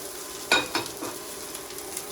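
Sliced onions and green chillies frying in a pan for okra masala: a soft background sizzle broken by a few quick scraping stir strokes near the start, then fading back to gentle frying.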